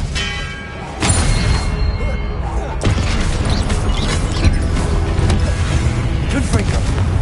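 Expelliarmus disarming spell cast in the Hogwarts Legacy game, a sudden loud magical blast with a thump that swells into a dense, sustained roar of game effects and clatter.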